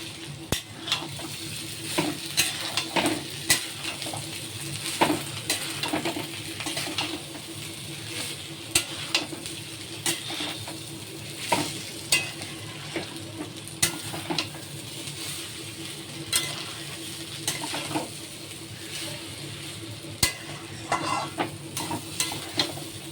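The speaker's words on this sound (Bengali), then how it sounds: "এর মধ্যে চালটা অল্প অল্প করে ছেড়ে, এবার নাড়া দেবো।" Rice frying in a pan with a soft continuous sizzle, overlaid by regular scraping and tapping of a spatula as it is stirred, steady and close for a long stretch, with no talk.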